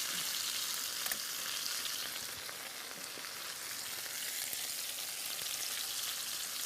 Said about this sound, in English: And now I'm going to just baste it a little bit